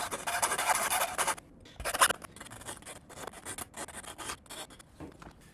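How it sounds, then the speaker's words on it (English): Hand file rasping over rough, sharp metal edges of a CB Performance 2017cc engine part, in bursty strokes with brief pauses, close and moderately loud. "I'm just going to file it so it's a bit flatter, smoother on the edges"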